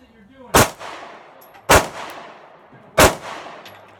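A Sig P365 pistol fires three loud, sharp shots at an outdoor range, spaced more than a second apart, each with a short echoing tail.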